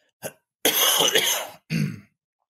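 A person coughs: one quick hack, then a longer rough, throaty cough, and one more short cough, close and clear.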